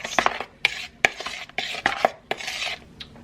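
Peanut butter bar batter with baking soda and salt being mixed in a bowl: a string of sharp clinks and scrapes with soft stirring between them, close and moderately loud, with no voices.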